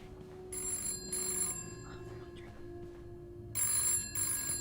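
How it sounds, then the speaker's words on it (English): A telephone rings in the mystery video game This Bed We Made, sounding two bursts of bright electronic trilling with a pause between them, while a player talks quietly underneath. "Is the phone ringing?"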